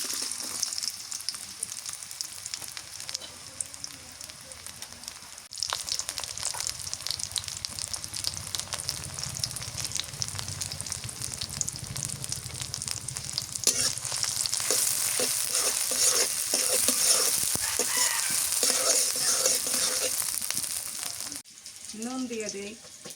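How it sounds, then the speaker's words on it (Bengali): Chopped onions fry in oil with a continuous close sizzle that swells louder partway through, broken by stirring scrapes and a few faint background noises. "তেল দিয়ে দেই পেঁয়াজ কুচি দিয়ে দিলাম"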